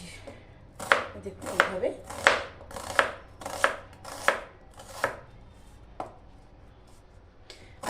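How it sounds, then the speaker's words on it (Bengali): A kitchen knife chops a medium-sized onion on a board, about a dozen crisp evenly spaced cuts close up, slowing toward the end, with a few quiet spoken words. "এবার আমি পেঁয়াজটাকেও কেটে নেব"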